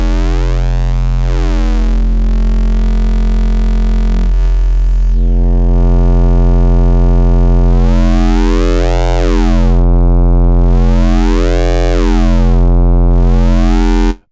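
A steady sine-wave synthesizer tone in Bitwig's The Grid drones loudly, its harmonics shifting and sweeping up and down as it is waveshaped, buzzing brighter then smoother, with no voices.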